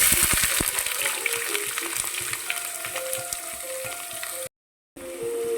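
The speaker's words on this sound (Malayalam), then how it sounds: "ആദ്യമേ വഴറ്റാനായിട്ട് സവാള ചേർക്കാം." Onions sauté in hot oil for a chicken curry, making a loud, continuous sizzle with crackles and spoon scrapes. The sound cuts out briefly near the end, then returns.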